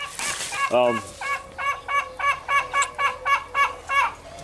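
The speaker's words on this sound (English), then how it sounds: "Yes, Miss Chicken." Chickens cluck near a spring vegetable garden: a low drawn-out call, then a steady run of about ten evenly spaced, fairly loud clucks with no talking.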